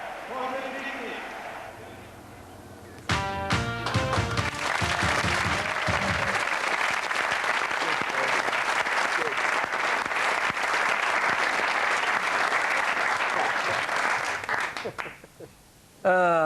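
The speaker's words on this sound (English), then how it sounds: "Denmark receive a fabulous and well-deserved ovation" A stadium crowd in Gothenburg gives Denmark a sustained roar of applause and cheering as the European Championship trophy is lifted, loud and steady for over ten seconds after a brief stretch of commentary talk.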